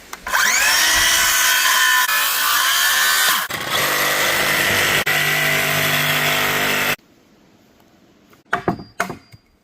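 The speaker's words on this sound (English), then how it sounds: "Take the miter saw, cut as far as we can until the guard hits up here, and then take the sawzall and finish it off." A miter saw then a reciprocating saw cut through wood while building a pole barn, a loud continuous whining buzz broken by a brief pause, then silence and a few sharp knocks at the end.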